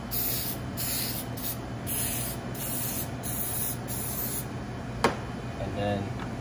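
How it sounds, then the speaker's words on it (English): A can of butter-flavored nonstick cooking spray hisses in several short bursts onto muffin pans, a steady airy spray close by, followed by a sharp knock. "Just spray these like so"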